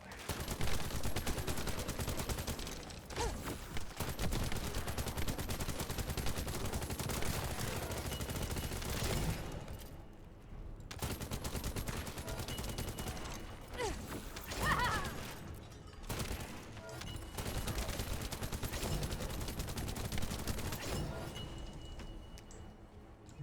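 Bursts of rapid gunfire from a gun in the shooter game The First Descendant crackle loudly and nearly nonstop, broken by short pauses around reloads.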